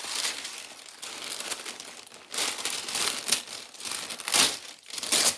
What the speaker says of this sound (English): I'm going to put a little parchment paper on top